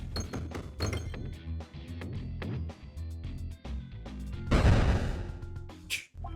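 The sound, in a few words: bombs exploding in Peglin video game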